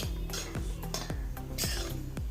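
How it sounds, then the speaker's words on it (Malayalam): A spatula scrapes and clinks against a pan while dry coconut masala is stirred and roasted, about six rhythmic strokes, close and clear, with no voices. "നല്ലപോലെ ഇങ്ങനെ ഇളക്കിക്കൊണ്ടേയിരിക്കാം"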